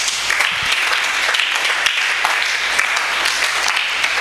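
A church congregation applauds in praise of the Word of the Lord, with steady, sustained clapping from many hands that fills the space evenly for several seconds.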